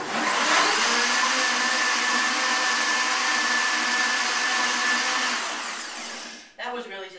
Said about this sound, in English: Give it another blend.